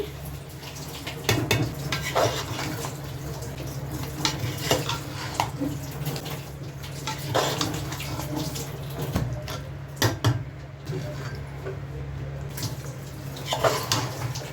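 Fried cauliflower stirred with its oil in a wok, with close, repeated scraping and clanking of a spatula against metal over a continuous low bubbling background, in uneven strokes.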